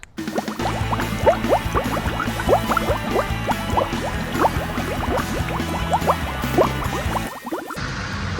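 Water hose spraying over a Can-Am Ryker three-wheeled motorcycle during washing, a loud continuous splashing and dripping wash with rapid spattering droplets that cuts off near the end.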